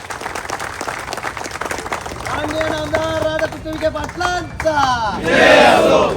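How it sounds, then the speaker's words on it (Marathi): A rally crowd applauds for the state's guardian minister, with loud shouting and chanting rising through the middle and a dense burst of clapping swelling near the end. "एकदा जोरदार टाळ्या पालकमंत्र्यांसाठी आपण कराव्या"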